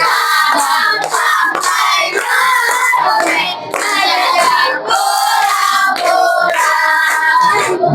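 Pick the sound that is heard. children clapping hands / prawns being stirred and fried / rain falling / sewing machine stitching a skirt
children clapping hands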